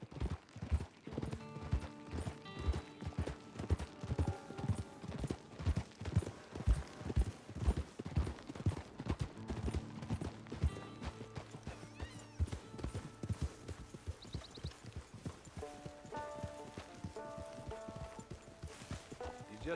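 Horse hooves clip-clop steadily in Red Dead Redemption 2 as a horse is ridden, a rhythmic series of close, clear hoofbeats that slows toward the end, with faint game sounds behind.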